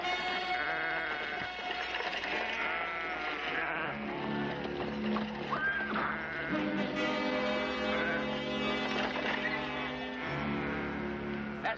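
Many sheep bleat repeatedly, a dense chorus of wavering calls from a flock, fairly close and continuous.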